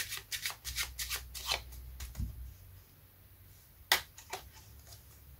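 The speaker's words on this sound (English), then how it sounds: "you keep shuffling. And you do the undercut." Playing cards get an overhand shuffle with an undercut, a series of quick close riffling snaps and soft slaps in uneven bursts, with one sharper crack near the end over quiet background.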